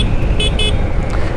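A Suzuki Gixxer Monotone motorcycle horn gives two short, close honks in quick succession over a continuous rumble of engine and road noise while riding.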